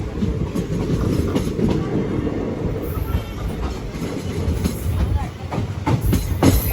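A Vijayawada–Guntur–Macherla passenger train rumbles steadily along the tracks, loud and close, with a continuous low roar and faint rhythmic clatter throughout.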